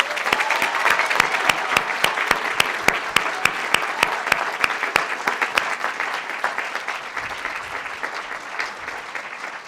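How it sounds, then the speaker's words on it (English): Audience applause at a university graduation ceremony, a steady dense wash of clapping with a few sharp individual claps standing out, loud at first and slowly thinning toward the end. "Let's give them a round of applause."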